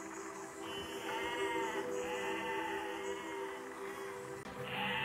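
Sheep in the video game Besiege give long quavering bleats, two or three drawn-out calls in succession over a steady low game drone, fairly prominent and with no talking.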